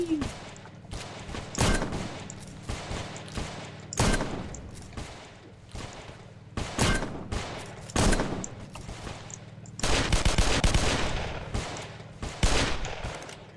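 Gunfire rings out in a Roblox open-world PvP building game, with repeated sharp shots in uneven bursts and rapid volleys over roughly thirteen seconds, loud and close.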